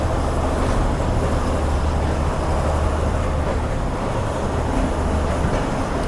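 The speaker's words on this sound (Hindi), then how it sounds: "तो जी हम पहुंच चुके हैं रोड़ी जंक्शन रेलवे स्टेशन" Steady, dense rumble of rail traffic at Rohri Junction railway station, Pakistan, with low mechanical drone and scattered clatter, continuous and fairly loud throughout, with no voices.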